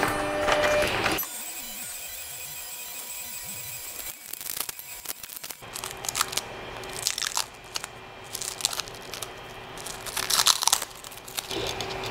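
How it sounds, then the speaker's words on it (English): A Creality CR-20 Pro 3D printer runs its automatic bed-leveling routine: motor whine and whirring with sustained tones, broken by irregular bursts of clicking and crunchy mechanical rattling, heard close and alone. "And then we're going to auto level the bed."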